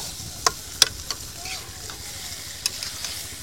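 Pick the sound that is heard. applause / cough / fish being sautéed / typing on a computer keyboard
fish being sautéed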